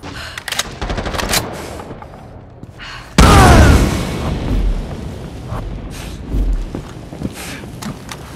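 A frag grenade explodes in Rainbow Six Siege Mobile, played on an iPhone 12: a sudden loud boom with a rumbling tail that breaks through scattered gunfire and in-game callouts, followed by further shots and thuds.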